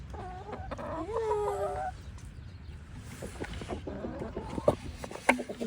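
Backyard chickens clucking and making short warbling calls close by, several bursts in a loose irregular rhythm over low background rumble, with a couple of sharp clicks near the end.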